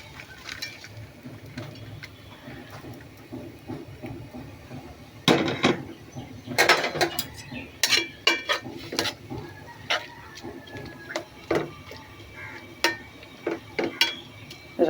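Greens go into a pan and get stirred, sparse metallic scrapes and clinks starting after a quiet low sizzle, then irregular sharp taps of a utensil against the pan, close by and with no voices.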